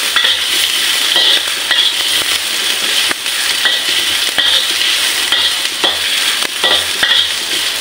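Ginger sautéing in a pan for sinigang na bangus: a loud, continuous sizzle and crackle up close, broken by repeated scraping and tapping of a utensil stirring against the pan, with no voices.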